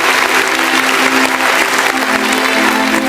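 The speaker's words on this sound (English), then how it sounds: "Give it a big round of applause for Dr. Chavi Kaushik." Pageant audience applauds steadily as a contestant is introduced at a Mrs and Miss heritage round, dense even clapping holding at full volume for about three seconds with a faint voice beneath.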